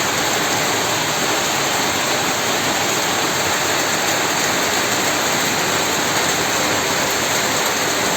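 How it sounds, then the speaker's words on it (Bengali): Heavy rain pours onto a rooftop where pigeons and chickens are kept, a loud, unbroken hiss of falling water that never lets up. "তো বাইরে যদি আপনাদের দেখাই, প্রচুর পরিমাণে বৃষ্টি হচ্ছে।"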